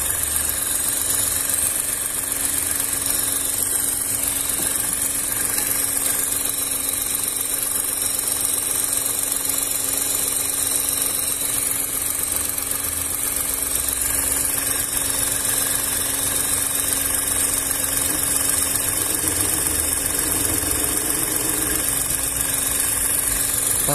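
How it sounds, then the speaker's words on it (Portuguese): Radiator cooling fan on a VW up! TSI turning slowly, heard as a steady, continuous whir blended with a constant idling engine hum, close and unchanging throughout. "Vou esperar ligar a ventoinha aí, já mostro pra vocês."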